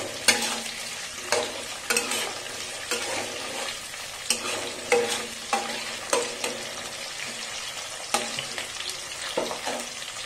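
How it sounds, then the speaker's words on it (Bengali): Mixed vegetables for fried rice fry lightly in a pan under a low sizzle, broken by regular scraping strokes of a spatula about every second, close and without speech. "এবার হালকা একটু ফ্রাই করে দেবো"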